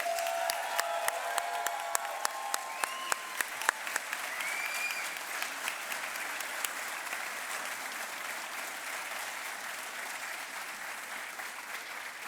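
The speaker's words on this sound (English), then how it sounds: "Please join me in another round of applause for our graduates." Applause for graduates at a military officer training graduation ceremony: a large seated audience claps steadily and evenly, a broad sustained wash of hand claps that starts with a few sharp claps and holds without voices.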